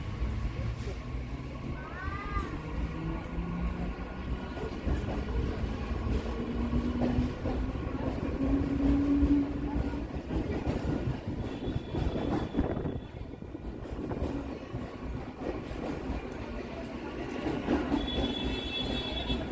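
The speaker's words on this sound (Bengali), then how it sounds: "ট্রেন মিনিট খানেক দাঁড়িয়েই ছেড়ে দিল" A Kolkata local train pulling out and running, a continuous loud rumble of wheels on rails with rising motor whine and occasional squeals, heard from aboard alongside some background voices.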